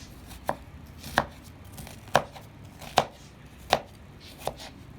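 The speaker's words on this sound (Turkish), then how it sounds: "Küçük küçük doğrayalım" Six evenly spaced knife chops through an onion hit a cutting board, crisp and close, with short quiet gaps between each stroke.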